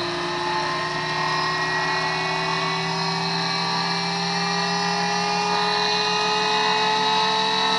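A pulse motor rotor on a basic bench setup spins at high speed with a steady, continuous electric whine and a rising tone, loud and close, holding constant throughout with no talking.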